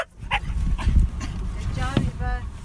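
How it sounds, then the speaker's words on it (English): A scat-detection whale dog gives a few short barks and yips in a noisy outdoor setting, with a low rumble beneath and voices talking around it. "That's the sound of Eba the whale dog."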